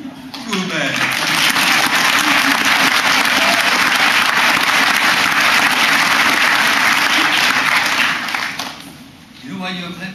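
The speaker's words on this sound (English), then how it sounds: "You know why you are clapping?" A lecture audience breaks into loud, dense clapping that swells quickly, holds steady for several seconds, then fades out just before a speaker's voice resumes.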